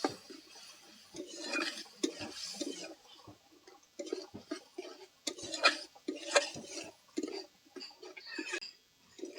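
Snail curry masala, with water just added, is stirred in a pan, producing close, irregular scraping, clinking and wet sloshing strokes in a steady rhythm.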